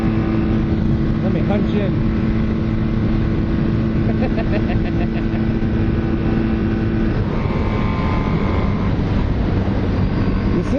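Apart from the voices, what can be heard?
motorcycle engine revving as the throttle is popped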